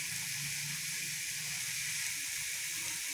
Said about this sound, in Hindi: मसाले को अच्छी तरह से आप लोगों ने फ्राई कर लेना।